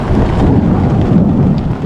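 Loud, continuous thunder rumbles through a lightning storm over a homestead, mixed with heavy rain hitting surfaces nearby.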